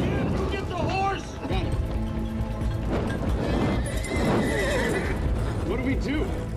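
Horses trapped in a burning stable whinny loudly and repeatedly while hooves clatter and stamp nearby, amid a dense roar of fire and commotion, with people shouting over it.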